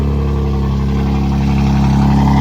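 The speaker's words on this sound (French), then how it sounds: "Les moteurs sont en marche. Ouais, il démarre petit à petit." A supercar engine, a Ferrari F40, rumbles steadily and loudly as it starts, building gradually in pitch as it revs, with no voices.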